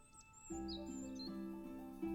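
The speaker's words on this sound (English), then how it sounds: "There's birds in the house?" Indoor birds chirping in the game Botany Manor, high sweeping tweets repeating over a steady tonal musical backdrop, clear and moderately close with no talking.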